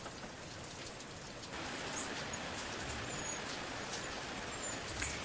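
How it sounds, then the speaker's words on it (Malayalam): Heavy rain pours outside a house by the sit-out, a dense, even hiss of drops that thickens partway through and continues steadily, with faint bird chirps above it and no talking. "നല്ല മഴയാണ്."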